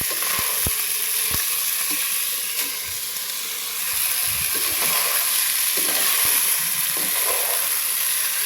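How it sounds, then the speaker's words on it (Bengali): Rice frying and being stirred in a pot for village-style biryani, with a loud continuous sizzle and hiss throughout and occasional scraping thuds from the stirring spoon. "অল্প অল্প করে চাল দিয়ে নাড়াচাড়া করে দেব"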